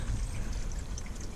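Hands digging in deep water and wrist-deep mud at a bottle dump, giving brief sloshing, trickling water sounds close by with low muddy churning.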